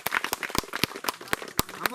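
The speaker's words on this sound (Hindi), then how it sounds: "तो इसके लिए एक अच्छा से ताली मारी आप लोग।" A small group of people clapping in short, sharp, uneven claps spaced through the moment, close by with a faint outdoor background.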